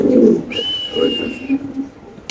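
Pigeons at a fancy pigeon exhibition, low soft cooing in short bursts close by, with a thin whistle-like tone running briefly through the middle.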